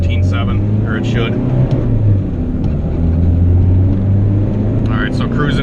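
A turbocharged Honda GSR engine drones steadily while the car drives, a constant low rumble running throughout with a person speaking over it.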